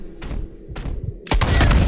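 Gunshots in Red Dead Redemption 2: two sharp reports about half a second apart, then a loud, sustained blast of gunfire, close and forceful.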